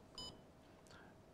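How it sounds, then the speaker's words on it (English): A Ceyomur CY60 trail camera gives a single short, clean electronic beep, bright and close, followed by quiet room tone with a faint trailing chirp. "Beep sound, you can hear"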